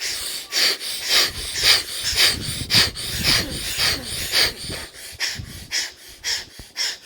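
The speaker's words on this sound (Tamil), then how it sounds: "வலது நாசியை மூடிட்டு இடது நாசியில் மட்டும் வேக வேகமாக மூச்சு இழுத்துடணும்" Rapid, forceful breathing through one nostril during a yoga breathing exercise, a steady run of about twenty quick, loud, hissing sniffs and exhales close to the microphone, with no talking.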